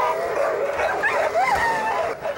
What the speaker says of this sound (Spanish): El gran efecto sonoro hizo parecer que estos perros realmente peleaban.